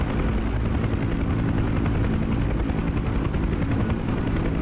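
A UH-1 Huey helicopter's rotor whirs in the DCS flight simulator game, a constant, loud, even drone with no pauses.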